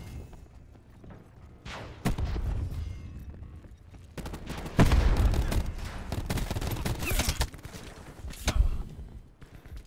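Submachine gun fire in a Black Ops 4 multiplayer team deathmatch, with bursts of rapid shots and loud impacts that come and go over constant battle noise, near and fairly loud.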